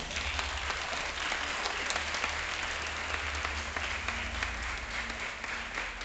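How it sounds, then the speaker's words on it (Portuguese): Theater audience applauding four mothers entering for a Mother's Day tribute, thick continuous clapping from a large crowd that holds steady and loud the whole time. "Por favor, pessoal, receba os nossos convidados com palmas."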